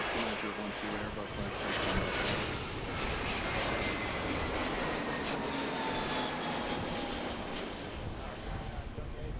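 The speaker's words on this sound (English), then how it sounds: "I think that went around the last time because it was too close to the aircraft in front of it." Airliner on approach to Philadelphia's runway 35 going around, a steady broadband engine roar filling the whole stretch at moderate, even loudness.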